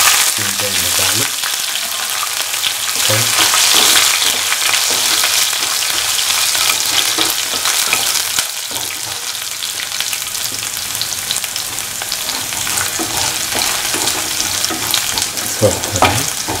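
Ginger and garlic frying in a hot pan, a loud continuous sizzle with crackling spits and occasional stirring scrapes throughout.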